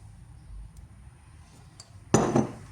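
A spoon clinks and scrapes in a bowl as mayonnaise goes into a salad with onion. Quiet handling leads into one sharp, brief clatter near the end, close by.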